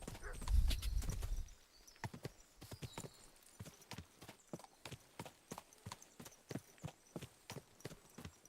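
Steady hoof clip-clops of a horse in the video game Kingdom Come: Deliverance II at a walking pace, crisp and close, with a brief low rumble and a faint whinny at the start.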